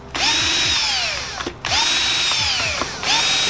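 Power drill with a 9/64 drill bit boring holes during a Kicker Key500 amplifier install in a Toyota Tundra; three loud whining bursts spin up, run for about a second and a half each, and stop, close by with no talk.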